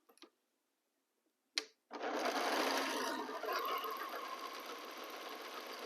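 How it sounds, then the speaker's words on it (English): A sewing machine joins quilt block sections after a couple of brief handling clicks, then settles into a loud, continuous close-up whirring hum of fast stitching that runs steadily to the end. "After we finish attaching these sections, we press the seam allowance to continue assembling our block."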